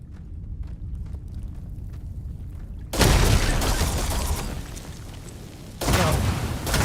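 Quiet rustling gives way to a huge booming explosion in the video game Starfield: Shattered Space that rumbles on, then a second blast hits near the end.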